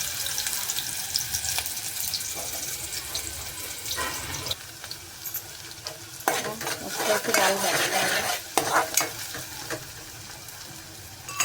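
Chopped onion frying in a pan for a chicken curry, giving a steady sizzle with stirring scrapes and clatter throughout, loudest in bursts toward the end.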